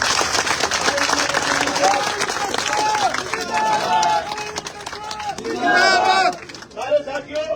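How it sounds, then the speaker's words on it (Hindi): A political rally crowd in Bhadra, gathered for a march led by MP Rahul Kaswan, applauds loudly and continuously, with shouting voices and chanting riding over the clapping throughout. "जोरदार तालियों से स्वागत करें।"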